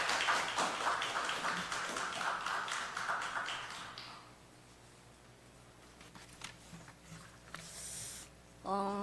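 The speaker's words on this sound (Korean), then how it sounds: "박수로 맞아주시기 바랍니다" Scattered audience applause during a seminary testimony session, a dense burst of clapping that thins out and fades to sparse claps, followed by a quieter stretch and brief sounds at the end.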